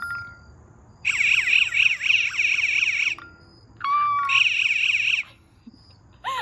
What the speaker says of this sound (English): If the buzzer works, then that means it is conducting electricity